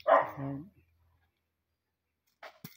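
One close dog bark, a sharp yelping burst at the start, then silence, then a brief faint noise at the end.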